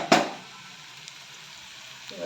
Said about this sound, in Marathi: आता फोडणीत आपण हळद टाकणार आहोत